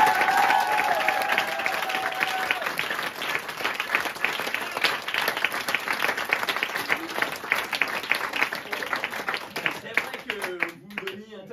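An audience at a French amateur theatre troupe's stage show applauds loudly and continuously, a dense wash of clapping that thins out and fades near the end.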